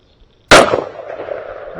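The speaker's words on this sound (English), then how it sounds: "I went ahead and shot" A single sharp rifle shot fired while zeroing a Pulsar Thermion thermal scope, a loud close crack with a short decaying tail and nothing else around it.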